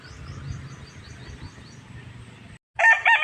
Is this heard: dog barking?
no